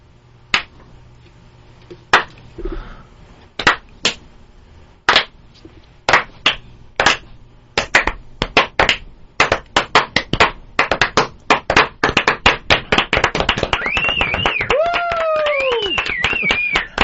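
Slow, spaced handclaps that speed up into a rapid round of applause from several people, with cheering voices rising over the clapping near the end.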